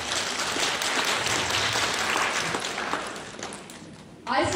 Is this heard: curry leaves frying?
no